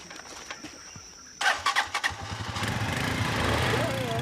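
A motorcycle for a bush ride in rural Cameroon sputters to life after a few cranking bursts, then settles into a steady close idle that gradually rises, with faint birds in the background.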